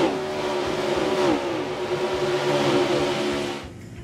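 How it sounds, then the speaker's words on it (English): Stock-car engines from the NASCAR Heat 4 racing game rev hard in a loud, continuous whine that rises and falls with gear changes, then fades away at the end. "It's not only got the authentic engine sounds in it"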